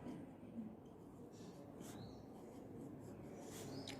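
Pen or pencil scratching across paper as a triangle's area formula is written out in a maths exercise, soft continuous strokes with brief pauses, close and quiet over faint room noise.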